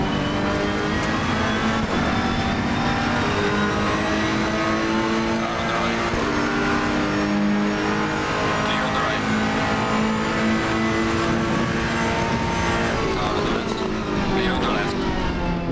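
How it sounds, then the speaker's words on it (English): Race car engines rumble and rev steadily in a racing video game, with occasional pops and crackles and a brief tire squeal, under continuous talking. "The pops and the cackles from the engines are very pronounced, and you can feel the rumble of the bass."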